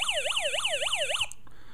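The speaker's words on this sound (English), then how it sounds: "the siren will go." A small toy siren on a homemade pinewood derby police car wails in a rapid up-and-down electronic warble, close and fairly loud, then cuts off abruptly.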